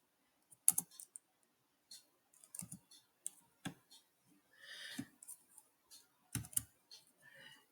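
HTML code being typed on a computer keyboard: scattered bursts of quiet, close key clicks in irregular clusters with pauses between them, no voices.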